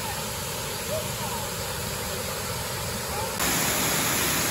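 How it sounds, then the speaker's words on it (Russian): Steady, dense rushing of a mountain waterfall near Alanya, Turkey fills the scene, a continuous broadband roar that swells slightly louder near the end, with no break. "Отсюда берет начало водопад."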